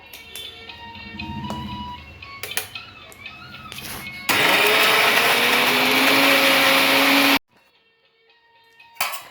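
A kitchen mixer grinder grinds dried coriander chutney. A few clatters and clicks come first, then a loud, steady whirring roar runs for about three seconds and cuts off abruptly, leaving near silence and a final clunk.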